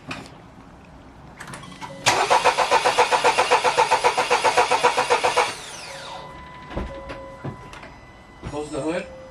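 A 2021 Acura RDX A-Spec fitted with an HPS cold air intake cranks with a rapid, even starter chatter for about three seconds, then catches and settles into a steady idle, with brief voices nearby.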